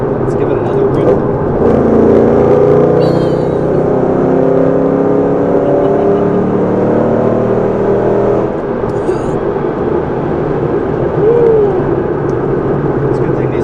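A 2008 Ford Mustang Bullitt Edition accelerates hard on a run, its engine note climbing steadily for several seconds and then easing off, before a second, shorter surge rises near the end.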